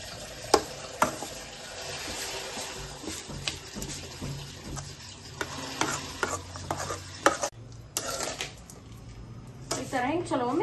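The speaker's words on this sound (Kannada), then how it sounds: "ಈ ಥರ ಹಿಂಗೆ ಚಲೋ ಮಿಕ್ಸ್ ಮಾಡ್ಬೇಕು." Sugar being stirred into a cooking pan, with repeated scraping strokes and soft sizzling close by, while a voice talks at intervals over the stirring.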